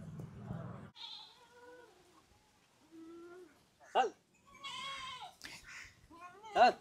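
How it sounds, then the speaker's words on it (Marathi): A goat bleats in short wavering calls, two louder bleats standing out near the end, between stretches of conversation in a casual outdoor setting. "एक बकरा घेऊन कुठे चालला?"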